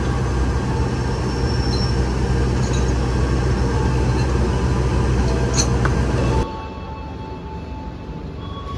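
A local train with its locomotive running long hood forward rumbles past loud and close, a steady heavy roll of wheels and engine that drops off abruptly partway through, leaving a quieter hum of the departing consist.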